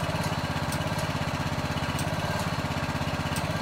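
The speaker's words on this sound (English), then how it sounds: "And now we're just going to cut our interpack machine off." An interpack compaction machine at a foundation and footing job runs with a steady, throbbing engine drone and fast rhythmic pulsing, loud and continuous with no talk.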